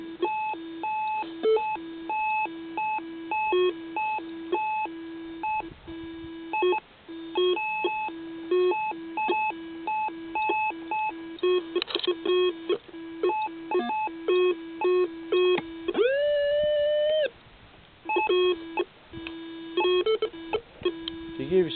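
A Whites V3i metal detector sounds a string of short electronic multi-tone target signals, beeps of varying pitch with a longer sustained tone near the end, as a severely masked small coin target sits among trash in the ground.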